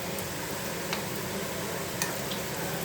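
Food fries lightly in oil in a pan, giving a steady, close hiss with a few faint clinks from stirring and no voices.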